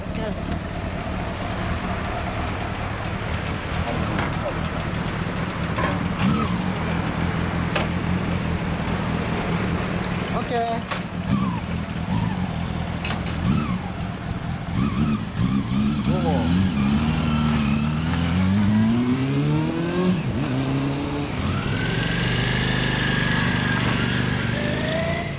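A Honda CB400 Super Four four-cylinder engine runs up close, idling and then revving in rising, repeated sweeps that climb higher toward the end. People speak over the steady engine noise.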